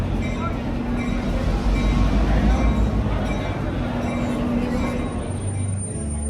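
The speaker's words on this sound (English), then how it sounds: "The Grapevine Vintage Railroad, or at least the trip that we took today, didn't really go anywhere in particular." Vintage train of the Grapevine Vintage Railroad in Texas rolling along, a steady loud rumble of wheels and carriage with low engine drone filling the whole stretch, a faint whistle-like tone near the end.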